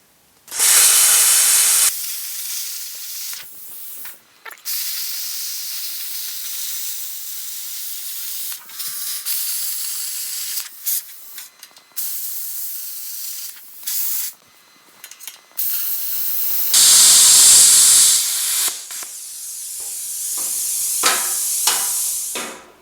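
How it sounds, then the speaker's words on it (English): A plasma cutter slices steel coil-over mounts off the rear of a GM A-body GTO restomod, giving several loud, close hissing bursts that start and stop repeatedly with no talking. "We'll get the plasma cutter and get these cut off here"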